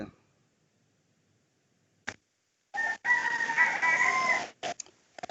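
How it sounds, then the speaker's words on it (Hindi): A rooster crows once from some distance, a drawn-out cock-a-doodle-doo heard clearly above near silence, after a few short faint knocks. "मुर्गा बोल रहा है भाई, आप नहीं बोले, मुर्गा जरूर बोल रहा है।"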